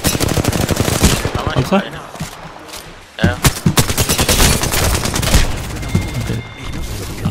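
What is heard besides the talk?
gunfire from a video game battle pass match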